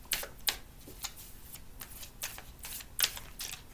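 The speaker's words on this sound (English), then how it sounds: "I'm going to draw a couple cards here." Oracle of the Radiant Sun cards are being drawn from a deck, giving quiet, close papery flicks and soft slaps in a loose irregular rhythm of about eight short bursts, with no talking.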